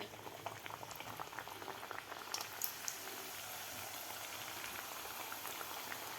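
Carrot gharge puris frying in hot oil, a steady dense bubbling crackle with scattered pops, continuous and fairly faint throughout, without any talk.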